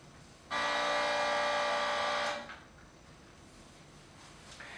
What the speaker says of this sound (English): My compressor was on still, so it made a little bit of noise.